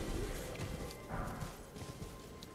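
Horse hooves galloping in the Elden Ring video game, a steady rhythmic clip-clop of a ridden mount that runs continuously under game ambience and music, at moderate loudness with no talk.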